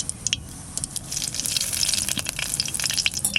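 Whole coriander seeds sizzle in hot oil alongside cumin and dried red chilli as a tempering, a steady close crackle and hiss running throughout with no talking.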